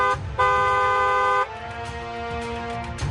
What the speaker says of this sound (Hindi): हॉर्न बजाना जरूरी है।